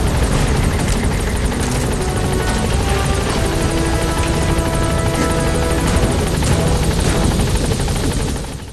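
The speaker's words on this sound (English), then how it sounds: "Support helicopter has arrived." A support helicopter from the video game Metal Gear Solid V: The Phantom Pain arrives at a landing zone, its rotor and engine roaring loudly and steadily throughout, close by and alone with no talk.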